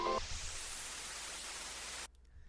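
A noise riser sound effect with reverb, made in Ableton Live 12: a hissing, static-like wash sustains steadily, then cuts off abruptly, leaving a faint reverb tail.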